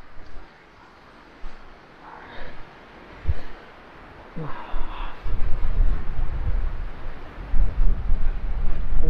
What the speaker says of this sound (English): the wind's picking up over here